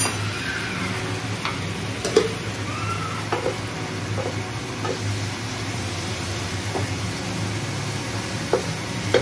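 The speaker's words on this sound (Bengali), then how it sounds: "চিমনির আওয়াজটা না এত কানে লাগে" Steady whirring drone of a kitchen chimney exhaust hood running at the stove while spices are sautéed with water, with faint sizzling and occasional clicks of stirring underneath.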